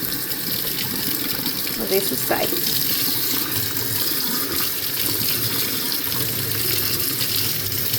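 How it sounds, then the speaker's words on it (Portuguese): Hot tap water pours continuously into a sink while a greasy dishwasher part is scrubbed under it, a steady close rushing splash. Someone speaks briefly over the flow. "Com a água bem quente"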